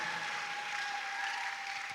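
A church congregation at a prayer service applauds in a faint, continuous wash of clapping, with a steady electronic hum running through it.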